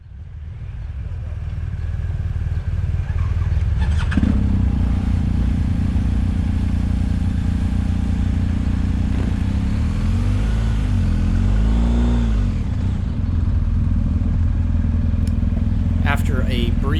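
A parked motorcycle with red heads, wrapped exhaust and a lowered stance idles steadily and loudly on an Alpine roadside in Italy, its low engine drone continuous throughout with a brief wavering rise near the middle.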